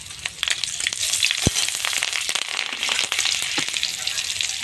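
Green chillies and five-spice seeds hitting hot oil in a wok, a loud, dense, continuous sizzle with crackling spits and one sharp tap near the start.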